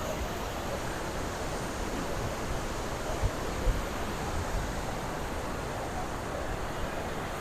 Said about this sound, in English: Incredible power. 3-stage waterfall.